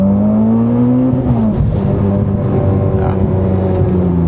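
Tuned Mitsubishi Evo X engine pulling hard, its rising whine climbing steadily until it hits the rev limiter and drops; loud and close from inside the car, with no talk.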